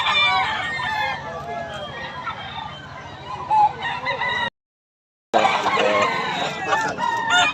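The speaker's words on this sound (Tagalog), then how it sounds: "35 tayo mga manok ni Boss Renz mga idol" Several roosters crow repeatedly and overlap, with clucking hens mixed in, loud and close, in Bocaue; the sound cuts out briefly near the middle, then the crowing resumes.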